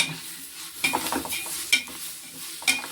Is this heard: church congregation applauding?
no